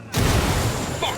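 Grenade blast in Ghost Recon Wildlands, a sudden loud boom after a brief quiet start, then a rumbling decay, with a short voice sound near the end.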